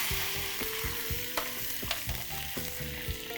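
Half a cup of butter melts and sizzles in a pan, a close, continuous crackle with small pops and light clinks scattered through it, and no voices.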